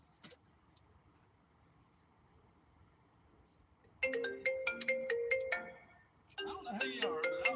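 An incoming-call phone ringtone plays a bright, repeating electronic melody in two bursts, loud and close, following a quiet stretch at a riverside fishing spot below a dam.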